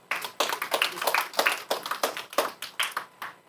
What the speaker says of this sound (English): We can applaud for that as well.